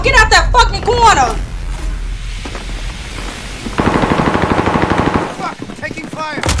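Rapid bursts of automatic gunfire in a video game, loud and continuous for a couple of seconds, with someone talking excitedly over and around the shots.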